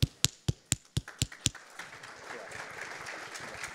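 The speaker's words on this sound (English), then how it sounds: "I appreciate your applause" Audience at a tech summit in a conference hall giving applause for a speaker: a handful of sharp, evenly spaced claps come first, then soften into a faint, diffuse patter.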